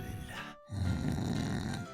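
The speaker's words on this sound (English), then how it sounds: "Are you snoring?" A video game character snores, one deep, rumbling, close snore drawn in after a brief pause and held for over a second, with no one talking.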